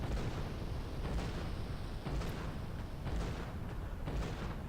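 A cannon firing in the Western video game GUN, several deep booming blasts at roughly one-second intervals over a constant rumbling background, moderately loud but muffled.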